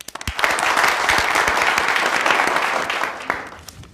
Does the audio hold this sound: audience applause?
yes